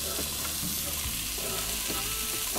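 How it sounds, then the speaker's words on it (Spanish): Onion, celery and bell pepper sautéing in chili-flavored oil in a pan for Panamanian chop steak: a steady, dense sizzle runs throughout, with a few soft low knocks from stirring and no voices. "vamos a sofreír lo que son los vegetales"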